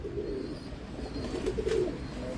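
Pigeon in a home loft giving a soft, steady low cooing that runs continuously through the whole stretch at moderate level, with no voices over it.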